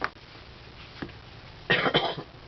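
A single person coughs a few times nearby, with short quiet gaps between the rough bursts.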